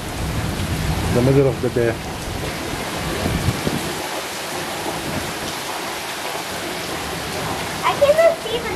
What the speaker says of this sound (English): I cannot see the building there because it's so windy there and it's raining.